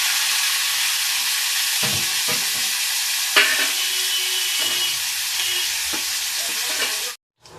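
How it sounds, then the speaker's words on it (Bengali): A loud, dense sizzle of prawns frying in hot oil in a kadai for potato prawn malai curry hisses continuously, broken by a few spatters and stirring knocks, then cuts off abruptly near the end. "এবার এই তেলটা গরম হয়ে গেছে আমি কড়ার মধ্যে চিংড়ি মাছগুলো দিয়ে দিচ্ছি"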